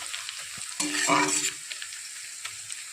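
Chopped onion frying in a pan while being stirred until it turns reddish brown, a steady close sizzle with a louder burst of scraping and stirring in the middle, alone without talk.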